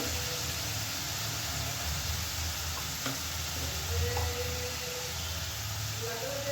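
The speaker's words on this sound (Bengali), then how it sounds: "মশলাকে এবার ভালো করে আমি কষিয়ে নেবো" Ground spices, coriander and chili powder with a splash of water, cooking down in a pan with fried potatoes for a snakehead fish curry, give a steady, moderately loud broadband sizzle throughout with faint stirring and no talk.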